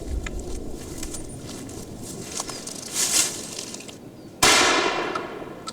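A single sharp gunshot cracks out in a winter forest where pine-nut-eating squirrels are hunted as pests, a sudden loud broadband burst near the end over quiet outdoor ambience with faint earlier knocks.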